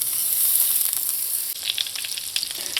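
Butter melts and sizzles in a pot over medium heat for a lobster chowder, a steady close hiss that turns into sharper, spitting pops partway through.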